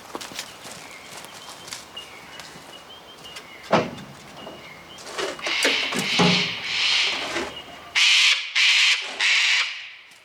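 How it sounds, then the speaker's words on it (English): Several loud, harsh screeching cockatoo calls burst out in succession near the end, preceded by scattered outdoor noises and soft rustling. "Cockatoo, if you haven't heard one of them."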